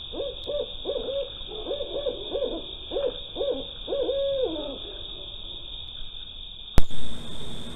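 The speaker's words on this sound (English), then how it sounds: "I think the owl is trying to warn the ducks." An owl hoots in a series of rhythmic, wavering calls over a constant high-pitched insect drone, then falls quiet before a sharp click.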